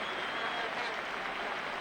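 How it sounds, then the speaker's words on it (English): A Spanish football crowd at a 1980 Spain–England friendly claps steadily for Trevor Francis, a broad, even wash of stadium applause without pauses. "the Spanish crowd are generously applauding Trevor Francis"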